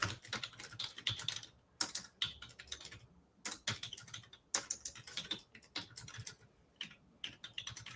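Quick bursts of clicky keystrokes on a computer keyboard, close and irregular, with short pauses between flurries and no talking.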